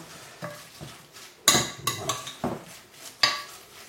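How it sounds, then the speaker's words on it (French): Raw beef tartare being stirred in a bowl, with irregular clinks and scrapes of a utensil against the dish, a few sharper knocks standing out, close and moderately loud. "On commence légèrement à mélanger cette préparation pour bien imprégner la viande"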